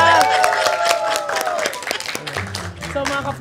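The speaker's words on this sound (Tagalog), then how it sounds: "Uy, palakpak naman kayo dyan!" A small crowd claps in scattered, uneven bursts at a wake, with voices talking and laughing over the applause throughout.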